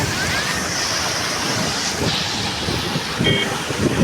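Vaigai river in flood, water rushing steadily beneath a bus bridge, a continuous broad roar of flowing water close by, with wind buffeting the microphone throughout and no talk.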